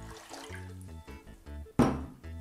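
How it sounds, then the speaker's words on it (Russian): Water is poured into a large pot in a kitchen, heard as quiet intermittent splashing and trickling with a louder splash near the end. "В большую кастрюлю выливаю воду."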